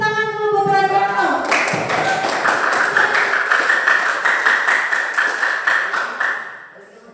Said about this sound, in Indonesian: itu beri tepuk tangan dulu buat Radianto